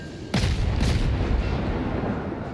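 Torpedo hits in the naval battle game World of Warships: a sudden loud booming explosion with a second blast shortly after, trailing into a sustained low rumble with no talking.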